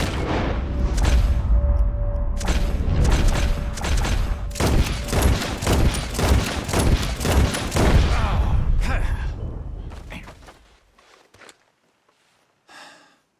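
Rapid volleys of gunfire crackle through a Red Dead Redemption 2 shootout, loud and dense bursts stacking over several seconds before trailing off into quiet with a faint last shot or two.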